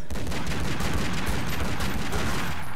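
Sustained assault rifle fire in Tomb Raider Legend, a continuous loud stream of rapid shots with no pauses, close and dominant throughout.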